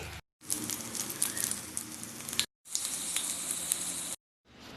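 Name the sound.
capsicum pakoda frying in a kadai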